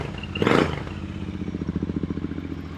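Royal Enfield Interceptor 650 with baffles in the exhaust pipes, running indoors: a brief burst of noise, then a steady, close, loud idle with an even pulsing thump.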